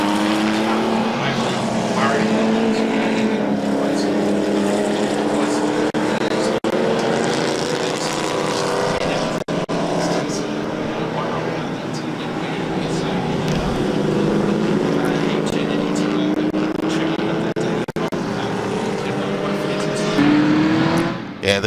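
Porsche IROC race cars roar past at a speed festival in a sustained loud blur of engine noise with rising and falling pitch, while voices talk over it throughout.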